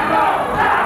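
A boxing crowd at a 1985 WBA super lightweight title fight roars in a loud, sustained wall of cheering and shouting, filling the arena with no break.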